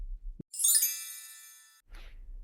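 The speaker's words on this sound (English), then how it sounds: "That's our bell, and it's Ask the Teacher Anything time." A single bright bell chime rings out in a quiet podcast, its shimmering tone holding and slowly fading for over a second before silence returns.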